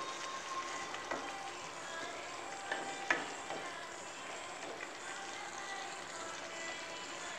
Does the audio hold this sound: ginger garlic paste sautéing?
yes